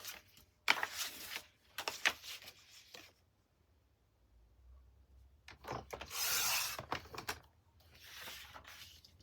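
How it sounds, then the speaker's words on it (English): Coloured cardstock being cut on a 12-inch paper trimmer, with close scraping blade strokes and sliding paper rubs in separate bursts, broken by a brief quiet gap. "I'm just going to bring in the 12-inch trimmer, and to start off with, I'm just going to cut a 4 by 12 in each color."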